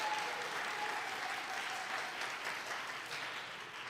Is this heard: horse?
no